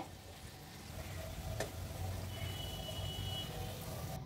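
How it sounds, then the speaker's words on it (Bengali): Chira bora, flattened rice fritters sweetened with jaggery, frying in a pan: a steady soft sizzle with low bubbling throughout and one brief click, close and quiet. "এখন অপর পাশ ভেজে নিলেই হয়ে যাবে।"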